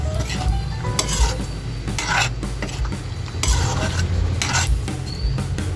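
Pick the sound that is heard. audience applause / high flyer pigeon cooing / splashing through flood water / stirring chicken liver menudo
stirring chicken liver menudo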